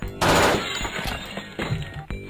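Gunfire in the video game Thing Thing 2: a loud, dense burst of rapid shots opens, followed by scattered sharper bangs that trail off, with no talking.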